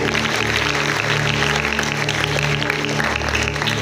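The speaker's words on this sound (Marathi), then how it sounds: "तुमच्यासाठी टाळ्या वाजवायच्या आहेत." Steady applause from a crowd at a school Yoga Day event, continuous and fairly loud, over a low constant hum.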